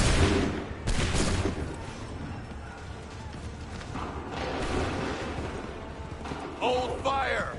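Scattered gunshots crack out in a musket volley in the video game Assassin's Creed 3, with a sharp burst near the start and more bangs later, mixed with background clatter and indistinct voices.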